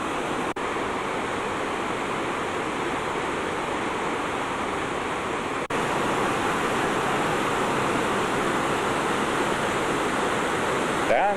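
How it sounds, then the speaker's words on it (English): Victoria Falls at low water cascades into its canyon, a dense, unbroken roar of falling water that stays loud and even throughout. "It's cascading over the falls,"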